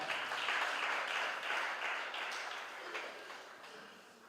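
Audience clapping for a contestant at an international spelling competition, a dense wash of hand claps that is fairly quiet and distant, fading gradually over a few seconds.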